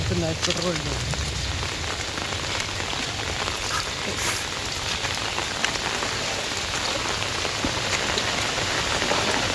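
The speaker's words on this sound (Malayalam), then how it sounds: "മഴ" Steady, dense rainfall pattering on a surface, continuous and fairly loud throughout, with a faint murmur of voices at the very start.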